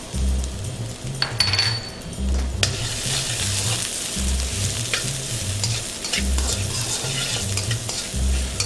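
Garlic and green onions stir-fry in a hot pan, sizzling continuously up close while a utensil scrapes and clinks against the pan in a repeating stirring rhythm, with no voices.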